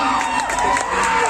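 A crowd at a Dahihandi celebration in a residential society cheers and shouts with children's voices mixed in, a dense, continuous roar of excited voices throughout the short stretch.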